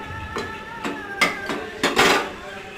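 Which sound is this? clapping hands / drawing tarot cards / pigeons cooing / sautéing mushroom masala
sautéing mushroom masala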